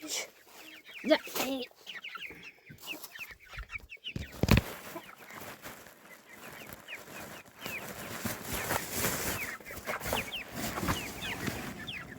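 Chickens and small chicks clucking and peeping while being fed small-sized grain feed, a steady busy chorus with scattered pecking sounds and occasional soft speech nearby.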